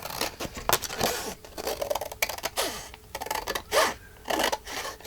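Scissors snipping through card stock for a pocket file folder journal, with close, uneven cuts and rustling in bursts and no talking.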